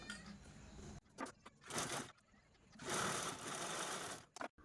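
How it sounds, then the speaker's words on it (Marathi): Sewing machine stitching a zip onto fabric, running in several loud bursts of fast motor whirring separated by short pauses and handling noises. "आणि दुसऱ्या पार्टवरती पण आपण ही झिप अशा पद्धतीने स्टिच करून घेऊ"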